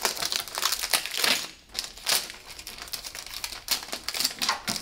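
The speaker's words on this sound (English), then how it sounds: "Grab a long piece of tape and tape the trash bag to your table." A plastic trash bag crinkles and rustles as it is taped down to a barber's station table, with irregular close crackling bursts and brief pauses, no voices.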